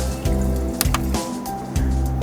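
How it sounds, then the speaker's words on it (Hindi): A glass of water poured into a cooking pot holding mutton, onion, ghee, salt and ground spices, a brief gurgling, splashing fill that runs continuously for a couple of seconds, close and fairly loud, with no voices. "साथ ही 1 गिलास पानी डाल देंगे।"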